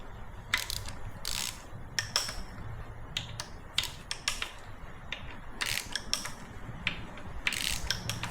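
Hand ratchet loosening T40 bolts on a ZF 6HP26 automatic transmission, heard as short bursts of clicking pawl that start and stop repeatedly, close up, with no talking.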